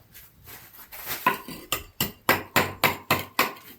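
A stonemason's hammer trims stone for drystacking with a little mortar, striking in a quickening series of about ten sharp, ringing blows, close and loud, with no talk.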